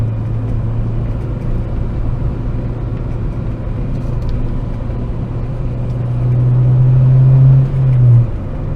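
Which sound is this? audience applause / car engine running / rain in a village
car engine running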